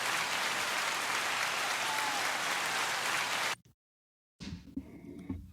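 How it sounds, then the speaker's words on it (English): A crowd applauds loudly and steadily for several seconds, then it cuts to silence before some quieter sounds follow. "Can we get a round of applause for that breakdown?"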